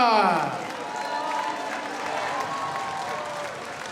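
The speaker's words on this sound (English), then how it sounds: "Let's have a round of applause" An audience at a varsity boxing match applauds a boxer, a broad wash of clapping that is loudest at the start and then continues at a steady, moderate level.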